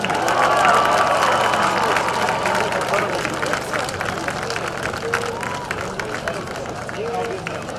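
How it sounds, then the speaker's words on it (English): An audience at a high school sports hall of fame induction applauds inductees, sustained clapping and crowd murmur filling a large room, steady and loud throughout with scattered voices in the mix. "Let's have one last round of applause for all of our inductees."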